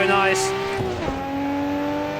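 A Nissan R32 GTR pulls hard out of a corner over the kerb on the Nordschleife, engine note climbing steadily and loud in the cabin with a brief tyre chirp, while the driver talks over it.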